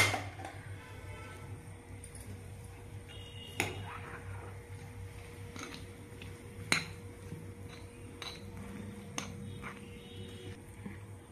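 A spoon stirs idli batter mixed with onions, green chillies and cumin in a bowl, giving sporadic metallic clinks and soft wet squishes at an easy pace.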